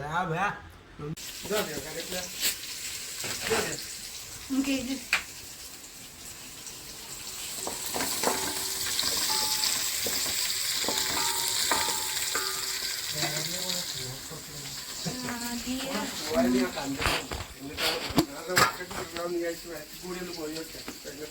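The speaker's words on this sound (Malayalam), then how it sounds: "ഇത് ഫ്രൈ ആക്കി നല്ല കടുക് വറുത്തിട്ട്" Tender jackfruit frying in a pan with mustard seeds and curry leaves in a Kerala kitchen, a soft sizzle with clatters and stirring scrapes while people talk throughout.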